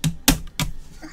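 Sharp clacking from an unusual keyboard that resembles cards knocking together, three separate loud strikes spaced about a third of a second apart, close and fairly loud.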